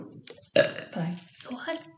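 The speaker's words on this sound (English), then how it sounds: "I'd burp this as well." A single abrupt burp breaks through a person's talking, one loud voiced belch set among nearby speech.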